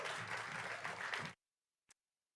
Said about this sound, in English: let's give her a round of applause too for those beautiful poetry